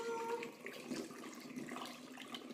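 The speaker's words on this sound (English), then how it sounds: "I scoop it out of my kombucha jar and then I use my funnel. And it just goes into the bottle." Homemade kombucha is poured from a jar through a funnel into a bottle, making a steady, soft trickling and splashing stream of liquid that runs on without a break.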